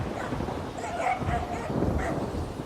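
A dog barks and yips in a few short, moderate bursts within a busy, noisy scene, with talk around it.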